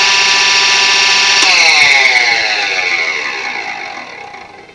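A wood lathe spins while turning pre-formed stems, a loud steady motor whine with tonal harmonics that winds down in pitch and fades as it slows.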